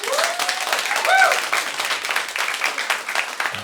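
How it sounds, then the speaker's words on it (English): A comedy special crowd claps steadily in a sustained burst of applause, loud and close, with a voice briefly audible over it. "clap if you understand or speak Spanish"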